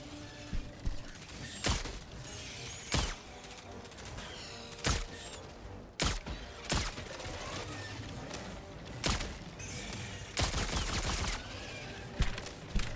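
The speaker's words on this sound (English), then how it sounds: "The gun is, like, the gun sounds sick" Game gunfire from Helldivers 2 with the Halo Warbond weapons: repeated loud bursts of shots over a busy battle mix of mechanical clanks and effects, with some voice chatter underneath.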